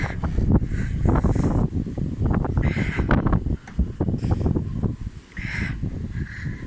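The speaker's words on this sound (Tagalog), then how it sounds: "Grabe, sobrang hangin dito. Sobrang mahangin." Heavy wind rumbles and buffets the microphone steadily beside the Limfjord in Denmark, near large boats, with brief lulls and some faint higher tones mixed in.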